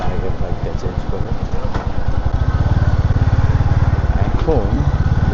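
A Royal Enfield Bullet motorcycle engine runs close by with a steady, rapid single-beat thump that grows fuller and more even partway through, the loud chugging continuing without pause.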